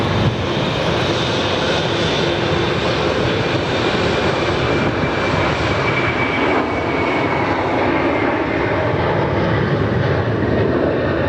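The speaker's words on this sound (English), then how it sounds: "Seeing two Qantas 787s come past on taxiway Charlie." Two Qantas Boeing 787s taxiing past at Sydney Airport make a steady, loud engine roar with a broad whine that holds for the whole stretch, no voices over it.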